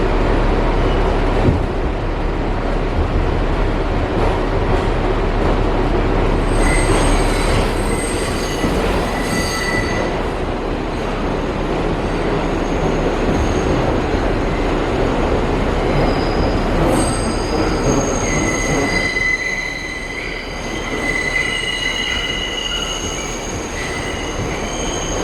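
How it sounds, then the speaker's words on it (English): A New York City subway 6 train grinds through the old City Hall loop, wheels squealing in long high-pitched screeches over a steady rumble of rail cars, continuous and close with no talking. "all you need to do to ride it is hop on the 6 train at its last stop and just ride through"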